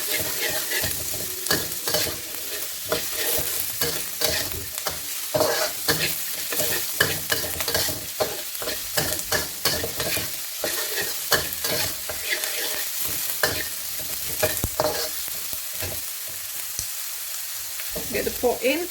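Aromatics sizzle over medium heat in a pan while a utensil scrapes and stirs them in irregular clacks, the frying hiss close and continuous throughout.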